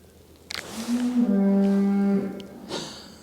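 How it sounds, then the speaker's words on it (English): A cow gives one long, loud, drawn-out moo close by on a grassy field, swelling and then cutting off, with quieter rustling before and after. "Excuse the cows."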